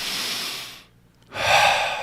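Controlled breathing during a meditation exercise: a long, steady airy exhale, a short pause, then a strong inhale, close to the microphone with no talk.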